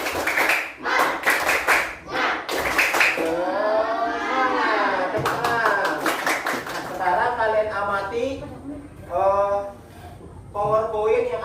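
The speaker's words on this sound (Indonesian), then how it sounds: "mari kita melakukan tepuk semangat semuanya" A class of children on their feet doing a rhythmic 'tepuk semangat' clap routine: bursts of patterned group clapping in the first few seconds, then children's voices chanting and calling out over scattered claps.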